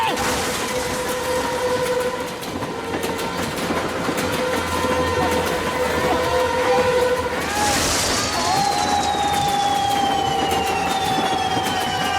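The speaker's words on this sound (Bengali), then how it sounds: "ট্রেনটা এদিকেই আসছে।" Cartoon train rumbling closer with steady clattering and sustained whistle-like tones, loud throughout, then a bright rising hiss and a long falling tone near the end.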